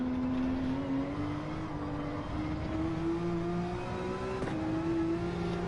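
A race car engine holds a steady, high droning note through a corner in a racing game, pitch creeping gradually upward as it accelerates, loud and continuous with no talk.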